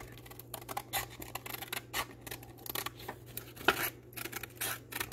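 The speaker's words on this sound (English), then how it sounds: "Get out a pair of trusty scissors." A pair of scissors snips through material over and over at close range, each cut a sharp crisp burst in an uneven rhythm above a steady low hum.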